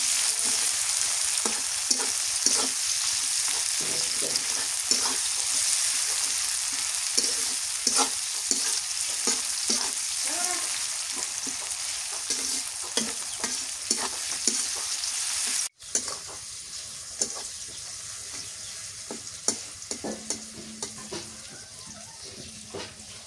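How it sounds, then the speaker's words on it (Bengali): Chopped onion fries in a pan with cloves and cinnamon, giving a steady close sizzle broken by repeated stirring scrapes, briefly cut off partway and then resuming at a slightly lower level. "দিয়ে দিলাম পেঁয়াজ কুচি"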